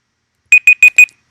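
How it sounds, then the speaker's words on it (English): A timer alarm going off, four short evenly spaced high electronic beeps, loud and close, in otherwise silent surroundings. "Oh, timer went."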